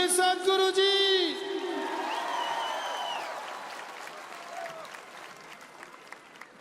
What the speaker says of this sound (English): Let's have a loud round of applause for the one and only Sadhguruji!